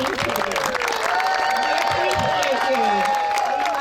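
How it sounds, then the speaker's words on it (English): Audience applause and cheering from a crowd, clapping mixed with voices and whoops, fairly close and lively throughout. "let's give a hearty round of applause to show our appreciation from everyone"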